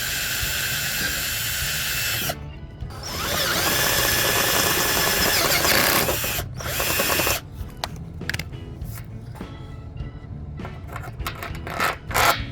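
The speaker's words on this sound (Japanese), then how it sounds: "下穴って呼ばれる小さい穴を開けて、それからね、徐々にドリルの径を大きくしていきます" A power drill grinds loudly and continuously, boring a small pilot hole for bolts to mount a solar panel on a kei car, then stops. Shorter bursts of drilling and scraping follow with brief pauses as the bit size increases.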